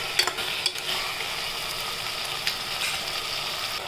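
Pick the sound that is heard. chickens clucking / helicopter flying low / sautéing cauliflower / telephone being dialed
sautéing cauliflower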